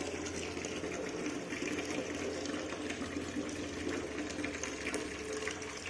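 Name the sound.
watering plants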